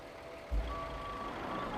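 A vehicle in the video game Roadcraft sounds its reversing alarm, steady high electronic beeps over a low engine rumble, with one brief thump near the start.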